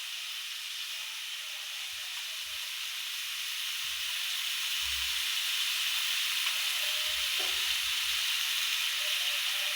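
Masala sizzles and roasts in a pan, a soft, steady hiss with faint low clatters and bumps scattered throughout.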